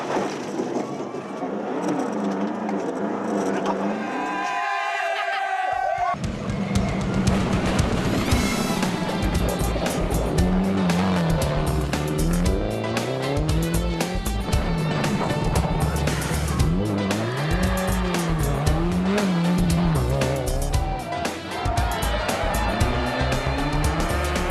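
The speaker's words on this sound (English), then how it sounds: "The rally resumed on stage 7, another short stage that took the cars past a spectator point ideally located on a hairpin." Rally cars in the Safari Rally passing a hairpin spectator point, with engines revving and rising and falling through gear changes, gravel crunch and crackle, loud and close after a brief quieter start.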